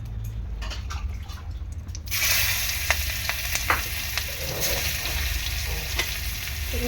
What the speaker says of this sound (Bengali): দু মিনিট ফোড়নটাকে একটু ফ্রাই করে নেবো